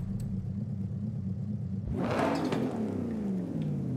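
A tuned car in Forza Horizon 5 with louder induction and turbo sounds builds from a low idle rumble into a sudden surging rev, the engine note rising and roaring close up with no talk.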